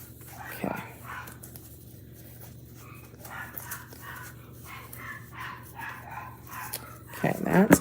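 Small puppies yip and bark in short bursts through the background, with a sharper, louder yelp near the start and a cluster of yaps at the end, while a person talks quietly nearby.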